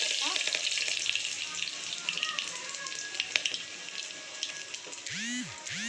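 Cumin seeds sizzle in hot oil alongside mustard seeds in a pan, a steady close crackling hiss with faint scattered pops, and a brief whistling tone near the end.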